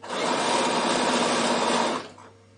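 A Bernina sewing machine stitching a fabric casserole carryall cover runs in one steady, loud, close buzzing burst for about two seconds, then stops abruptly.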